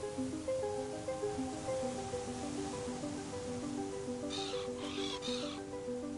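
A seagull squawks in a few short, harsh bursts in the video game Willy Morgan and the Curse of Bone Town, heard over steady melodic background music.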